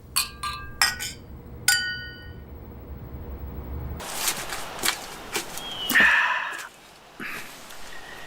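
Glasses clink in a toast, a few sharp chinks close by in quick succession, followed by a brighter ringing clink among soft shuffles and movement.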